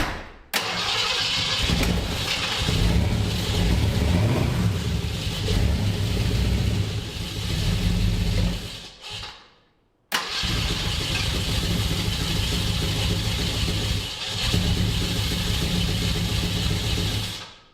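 A long-seized Jeep Grand Wagoneer engine cranks, catches and runs loud and close, holding a steady rough idle, cutting out briefly near the ten-second mark, then restarting and running on as the vehicle is backed up.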